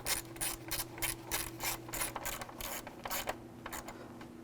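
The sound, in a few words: ratchet tightening water pump cover bolts on Chevy Tahoe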